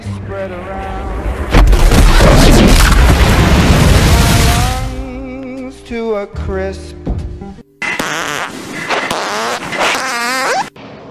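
A deep, rumbling boom of an atomic bomb explosion swells loudly and rolls on for several seconds before giving way to dialogue, music and other sounds.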